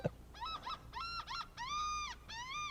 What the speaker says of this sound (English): The laughing gull appreciates my humor.